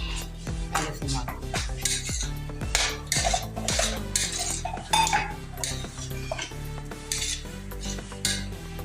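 Food being stirred in a pot for sweet rice with onion and a pinch of salt, heard as a close, busy run of repeated metal utensil scrapes and clinks against the pot over a faint sizzle.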